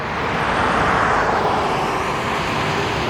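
A Qantas Boeing 737-838 jet rolls down runway 14 at its takeoff run, sending a loud, steady broadband roar of engines across the roadside. The roar builds slightly and then holds steady.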